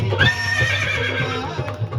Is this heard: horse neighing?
yes